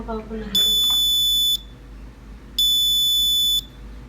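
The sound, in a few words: buzzer alarm of IoT smart clothesline temperature sensor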